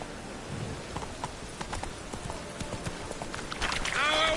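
Roach the horse's hooves clip-clopping in a steady trotting rhythm in The Witcher 3 game, fairly soft, with other game sounds rising toward the end.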